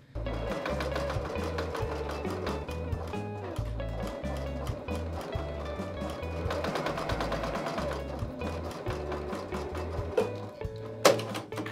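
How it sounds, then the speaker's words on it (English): A home sewing machine stitches fabric basket sides closed in a steady, fast mechanical chatter with low thumping pulses. Brief pauses break the run, and a sharp click comes near the end. "So now it's time to head over to the sewing machine and sew all four sides all the way closed."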